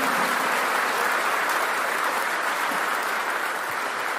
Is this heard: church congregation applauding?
yes